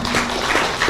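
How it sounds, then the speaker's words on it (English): Applause from an audience at a Sri Gita Jayanti festival gathering, a dense steady wash of many hands clapping at moderate distance, brief and sustained throughout. "Let's give a big round of applause to Aham."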